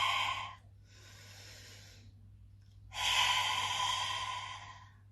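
Yoga panting breaths with the tongue out, like a dog panting: two long, strong breathy exhales, close and fairly loud, separated by a softer breath and a short pause, with no speech.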